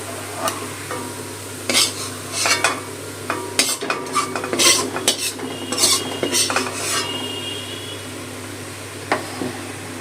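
Utensil scraping and clinking against a pan and plate as cooked shrimp filling for potol dorma is transferred, a run of irregular scrapes and taps over a steady low kitchen hum, with no one speaking.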